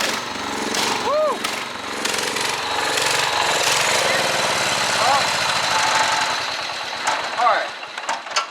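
A Kohler K321 engine runs steadily on a John Deere 214 mower being built as a mud mower, a loud continuous drone throughout with brief voices and whistle-like chirps over it.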